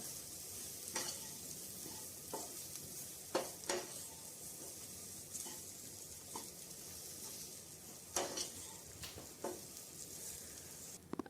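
Onion and coconut are sautéed with turmeric, meat masala, coriander and chili powder for a beef roast, giving a soft, continuous sizzle in a pan broken by occasional sharp spoon scrapes and stirs, fairly quiet and without talk.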